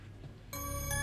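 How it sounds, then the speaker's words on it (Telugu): An indoor telephone bell starts ringing partway through and keeps up a steady, bright, close ring with no one speaking over it. "అన్నయ్య, శ్రీధర్ అన్నయ్య, మీకే ఫోన్."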